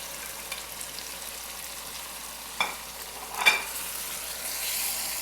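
Chicken tikka pieces fry in a masala inside a karahi, giving a steady low sizzle with a couple of brief stirring scrapes partway through and a slightly brighter hiss toward the end.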